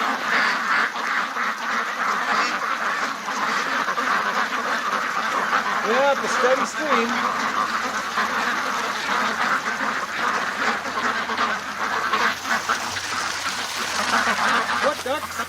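Agitated pet ducks quack steadily in a backyard near a running garden hose, a busy overlapping chorus that runs the whole time beneath a person's nearby talk.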